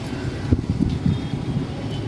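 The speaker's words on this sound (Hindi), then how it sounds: "गाइस बहुत ही ठंडी ठंडी हवा चल रही है यहाँ पे" Cold wind blowing outdoors at night in Bangalore near a hotel, a loud rumbling buffet that gusts in uneven surges against the microphone, alone without speech.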